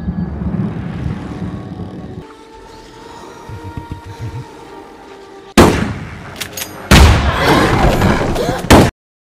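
Gunshots in a film scene as a character fires at a fleeing unicorn: sudden loud sharp blasts with ringing tails, one near 5.5 s and a heavier burst from about 7 to 9 s, after quieter ambient rumble.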